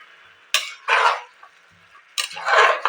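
Vegetables being stirred and fried in oil in a pan, with a few distinct scraping, clattering bursts of a spoon against metal separated by quieter pauses, close and clear with no talking.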